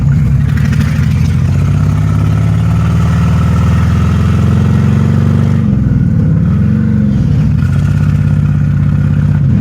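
A car engine with a misfire runs steadily and loudly for the whole stretch, its low rumble dipping and wavering briefly partway through before settling back to an even idle, with no one talking.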